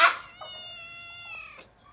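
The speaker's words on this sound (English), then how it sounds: "We've added a new farm kitten to the house." A single drawn-out farm kitten meow, thin and high-pitched, close by and fairly soft, fading out after a little over a second.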